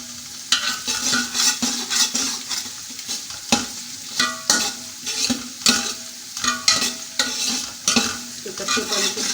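Kadhi base is roasted in a pan while being stirred, producing repeated scraping strokes and clinks over a light sizzle in an uneven rhythm, close and distinct.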